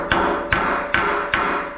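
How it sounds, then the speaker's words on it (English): Cracked welds on a Bricklin car frame are hammered down with four loud, evenly spaced metallic blows, each close and ringing briefly before the next strike. "Hammer down the cracked welds before repairing."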